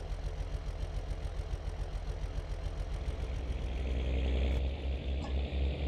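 A tractor engine in Farming Simulator 22 drones steadily while pulling wide harrows across a field, a pulsing mid-pitched rumble that swells louder near the end.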